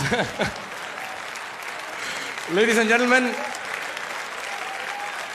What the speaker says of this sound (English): let's hear the biggest round of applause